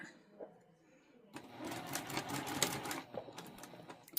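Sewing machine stitching a quilted pillow cover made from a tea towel, a steady mechanical whirr that starts partway through and runs close and moderately loud with brief pauses.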